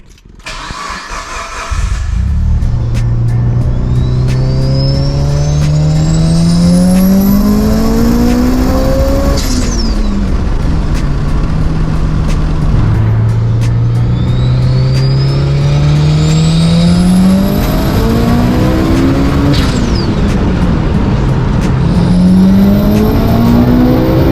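A turbocharged car engine on a dyno, running about 30.5 psi of boost on pump gas, starts up and makes two long rising full-throttle pulls toward 8,500 RPM, loud and close, with a sharp drop-off between pulls.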